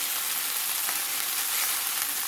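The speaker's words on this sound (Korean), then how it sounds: "어느 정도 한번 볶아진 것 같으니까 이제 마늘을 넣어볼게요" Hijiki seaweed stir-frying in a pan as garlic goes in, a steady dense sizzle, close and even throughout with no talking.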